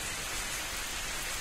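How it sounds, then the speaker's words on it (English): Steady rain falling outdoors in a zombie survival video game, a dense, even hiss of raindrops with no other sounds on top. "Now it's raining outside."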